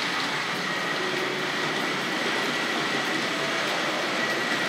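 Hornby R.154 Class N15 model locomotive running steadily on a model railway track with Southern coaches, a continuous close rolling rumble with light wheel rattle and no talking.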